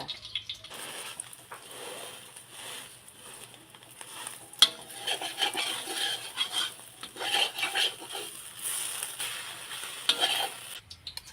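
Eggs frying in a pan with a steady sizzle and occasional stirring or utensil scrapes against the pan, close and fairly quiet, with no talking.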